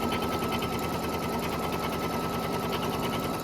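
An embroidery machine stitches a placement line at a fast, steady needle rhythm, a loud continuous mechanical whir with regular ticking, close up with no talk.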